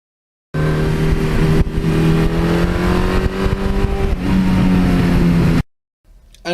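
A 1982 Suzuki GS1100E motorcycle engine runs through its exhaust in a steady, throaty roar that swells slightly midway and then cuts off abruptly, with no talking.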